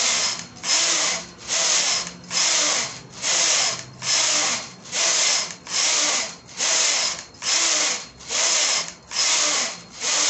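A knitting machine carriage passes back and forth across a beanie at tension 5, about a dozen even whooshing sweeps in a steady rhythm, close and fairly loud, with no talking.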